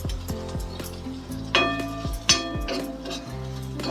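Thin potato slices roasting in a pan give a low sizzle under repeated clinks and scraping knocks of a spatula against the pan, close and fairly loud, with no one speaking.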